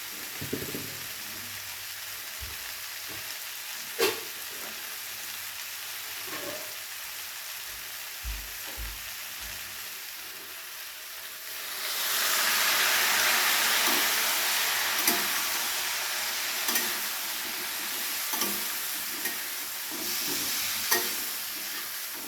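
Bitter gourd with spices fries in a pan, a low sizzle with occasional utensil taps that swells into a loud, steamy hiss about halfway through as water is sprinkled in, continuing steadily to the end.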